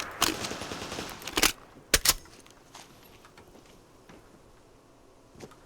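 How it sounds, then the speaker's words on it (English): A 10mm SMG fires in Fallout 4 in two quick bursts of rapid shots, close and loud, with a lingering tail and faint clicks afterward. "Just shooting the 10mm rounds?"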